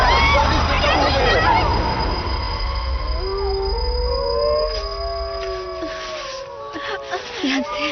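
Dangerous wild dogs howl in a film scene, several long, wavering howls overlapping and drawn out over a background of agitated crowd noise that fades as the howling carries on.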